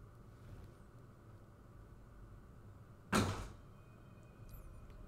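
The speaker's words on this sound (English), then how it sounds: "If you heard a loud noise, that's the cat coming into the room. He just barges the door wide open." A cat barges a room door wide open, producing one sudden loud bang in the middle of otherwise quiet room tone.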